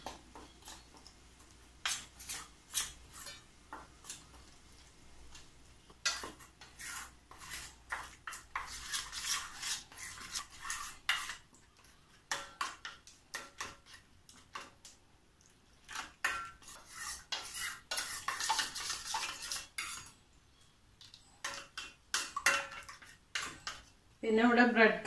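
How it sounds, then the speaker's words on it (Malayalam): A spoon stirs a batter of flour, cornflour, salt and water in a bowl for potato cheese balls, making intermittent scraping clinks and soft wet swishes, with a voice talking at times. "എന്നിട്ട് കുറച്ച് വെള്ളം ഒഴിച്ചിട്ട് ഒരു ബാറ്റർ റെഡിയാക്കാം"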